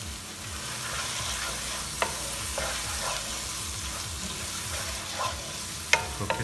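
Dal makhani with red chili paste sizzles and is stirred in a pan, a steady low frying hiss with occasional scrapes and light clinks of the spoon.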